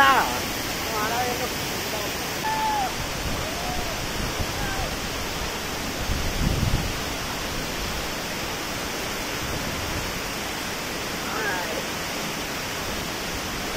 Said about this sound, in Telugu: వాటర్ ఫాల్స్ చూసారు కదా ఎలా ఉందో